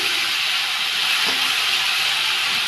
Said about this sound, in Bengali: আদা, জিরে আর কাঁচা লঙ্কা, এটা পেস্ট করে রেখেছি, এটা এবার দিয়ে দেবো।